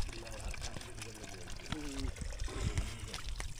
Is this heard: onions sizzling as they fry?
no